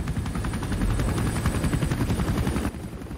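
A helicopter in Metal Gear Solid V: The Phantom Pain thuds with a rapid, steady rotor chop and turbine whine, loud and close for a few seconds before dropping slightly in level.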